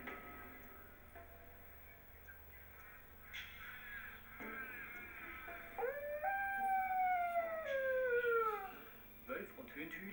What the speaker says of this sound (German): Wölfe und Hunde heulen, wenn ein versprengtes Tier sie Rudel sucht.